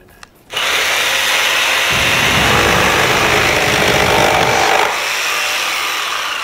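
A power tool whines loudly and steadily for several seconds after a brief quiet start, with a slight change in pitch midway through.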